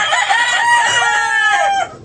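A rooster crows loudly and close by, one long drawn-out call that holds steady before cutting off, with faint clucking from other chickens.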